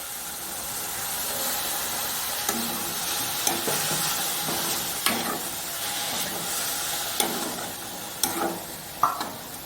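Garlic and fresh fenugreek leaves fry in a pan, a steady sizzling hiss broken by several spoon scrapes and stirring clatters at irregular intervals.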